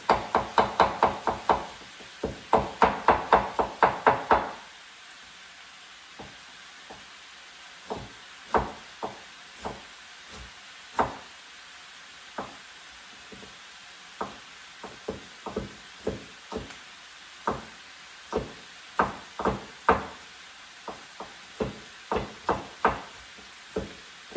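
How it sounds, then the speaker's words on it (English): Knife chopping ginger into slices on a wooden cutting board while making red braised pork: a fast burst of close, sharp knocks at first, then steady single chops spaced out one after another. "Okay, so I have the ginger. I'm going to basically chop it into slices."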